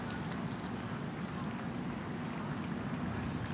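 Strong wind gusting across a golf course during a women's professional tournament, a steady, loud rushing roar buffeting the microphone without pause.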